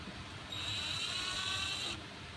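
A DeWalt 48V cordless impact drill whirs with a high, steady electric whine for about a second and a half, starting and stopping abruptly against a quiet room background.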